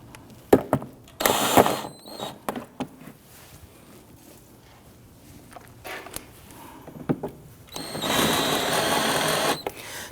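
A power driver spinning screws into the plastic inner fender liner of a 2009-2017 Volvo XC60, short whirring bursts separated by handling clatter, ending in a longer sustained run.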